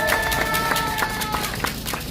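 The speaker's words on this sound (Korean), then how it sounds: "박수 쳐주십시오" Crowd at a protest rally outside a politician's office clapping, a dense, steady patter of applause heard up close for a couple of seconds with a busy, noisy background.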